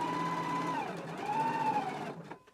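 A sewing machine stitching a 5/8-inch seam on a jacket, a steady whirring run that slows and stops near the end.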